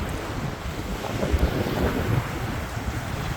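A steady coastal breeze at Hua Don beach in Hua Hin, Thailand, buffeting the microphone as a continuous low rumbling rush, with soft surf washing underneath and no voices.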